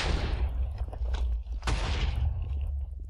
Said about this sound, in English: There are a lot of explosions.